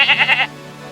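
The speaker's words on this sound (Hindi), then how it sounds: "देखता हूँ सारी बकरियां हैं या नहीं।" Goats bleating in a cartoon farm setting, a few quick close bleats in a row that stop halfway through, followed by quiet.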